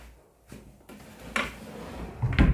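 A wooden drawer in a Jeju hotel room slides open with soft creaks and knocks, a few uneven scraping bumps building to a louder thud at the end, close and without talk.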